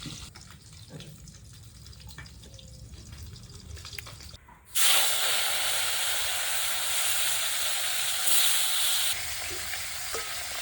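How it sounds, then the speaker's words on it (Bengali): Pieces of local katla fish frying in oil: after a quieter stretch of faint kitchen noise, a loud, dense sizzle bursts in suddenly and holds steady and close to the end, with no talking. "সবগুলো মাছ এক একে ভেজে নিলাম।"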